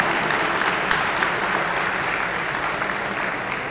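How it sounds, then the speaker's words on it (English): Sustained applause from a large audience at an annual charity gala, dense and steady throughout at an even level. "I think that deserves a round of applause, a significant round of applause."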